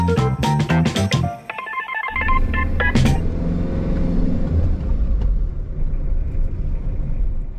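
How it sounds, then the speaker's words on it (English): Cars passing both ways along a Spanish road, a loud continuous rumble of engines and tyres rising and falling, with a brief burst of electronic tones at the start. "Oh, loads of cars coming in on one day."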